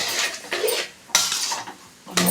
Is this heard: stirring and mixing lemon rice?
yes